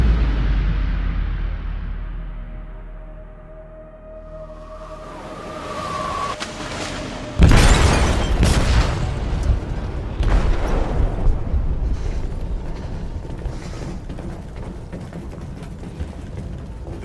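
A loud explosion tears through a ship's hold in Detroit: Become Human, a sudden broadband blast erupting after quieter mechanical rumble, followed by sustained roaring debris and rumbling with further booming bursts.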